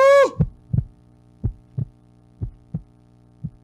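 Heartbeat effect in a horror video game: after a brief falling tonal sweep, a steady run of low, muffled thumps in close pairs over a faint hum, with no talking.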